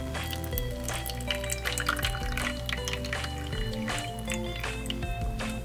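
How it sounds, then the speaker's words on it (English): Water pours and drips into a toy pot on a toy stove during children's pretend cooking, with short splashy liquid sounds over steady background music. "And add 1 cup of water."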